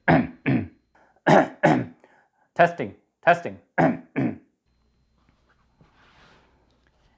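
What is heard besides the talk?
coughing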